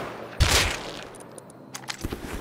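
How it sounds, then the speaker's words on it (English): Gunfire in the survival game Rust, a sharp nearby burst of shots followed by quieter scattered distant pops, with no talking. "Are you still being shot at?"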